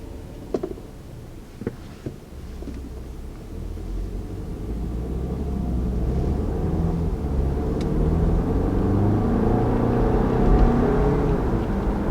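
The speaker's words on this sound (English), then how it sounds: "So, taking off in the 2019 Audi Q5." A 2019 Audi Q5 pulls away from a stop. Its engine rises into a steady, swelling rumble heard from inside the cabin, with a few small clicks at the start and no talk.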